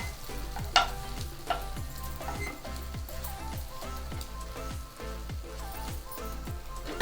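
Prawns frying in a pan: a steady close sizzle with a fairly regular series of spatula scrapes and taps as the pieces are stirred, without any talk.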